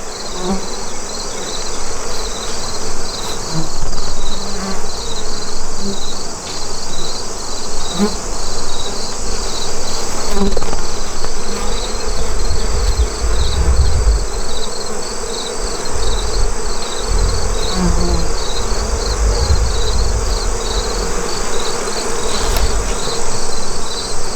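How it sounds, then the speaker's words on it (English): Honey bees from an open nuc hive buzz in a dense, steady drone that fills the whole stretch, close and loud, with faint low thumps of handling underneath and no talk. "We've got brood, we've got bees."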